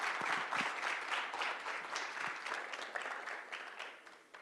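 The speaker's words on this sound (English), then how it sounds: "should we have a loud of applause for the Assistant Director" An audience at a regional AI forum applauds for the Assistant Director General, a dense and steady burst of clapping that slowly tapers off over several seconds, heard from a moderate distance.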